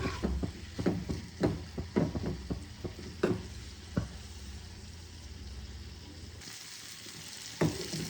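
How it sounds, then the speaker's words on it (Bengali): Onion, garlic, ginger and tomato fry together in a pan for a kadhai fish masala, giving a steady, close sizzle marked by occasional stirring scrapes and clinks. The sizzle drops away briefly near the end. "এই দেখো আমার পেঁয়াজ, রসুন, আদা, টমেটো সব কিছু ফ্রাই হয়ে গেছে।"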